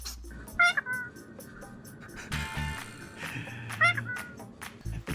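A cat meows twice, short rising cries spaced a few seconds apart, close and fairly clear over a busy room with people talking and some shuffling; a parrot is nearby.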